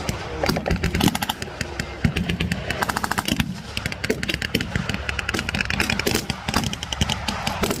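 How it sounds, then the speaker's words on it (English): A .50-calibre machine gun mounted on the back of an American half-track fires loud, continuous bursts at a World War II re-enactment, with dense rapid reports and crowd-scale battle noise filling the whole stretch. "On the back of the American half-track is a 50-pound machine gun, firing very noisily and causing a lot of damage to the German forces."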